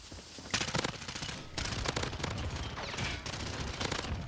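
An automatic Sykov pistol fires in rapid bursts in Modern Warfare, dense close gunfire that stops and resumes several times in quick succession.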